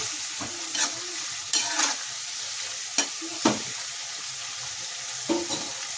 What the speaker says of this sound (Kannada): ಈ ರೀತಿ ಚೆನ್ನಾಗಿ ಫ್ರೈ ಮಾಡ್ಕೊಳ್ಳಿ ಎಣ್ಣೆಯಲ್ಲಿ